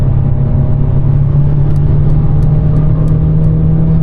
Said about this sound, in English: now we will floor the car for 1 minute and see how it goes